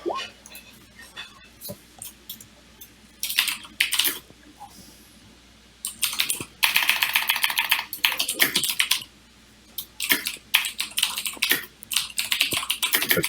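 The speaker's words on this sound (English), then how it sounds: "A choppy keyboard he's got there." Rapid, uneven clatter of typing on a choppy computer keyboard, coming in loud bursts separated by short pauses, close to the microphone.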